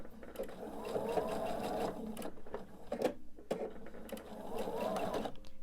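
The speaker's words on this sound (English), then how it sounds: "with our left pieces, we begin sewing from here" A sewing machine stitches quilt fabric pieces in short runs of rapid rhythmic whirring, close up, with pauses between bursts and a person talking over it.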